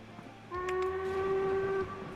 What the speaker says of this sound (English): Oh, this train's on its way. It's coming up to the split.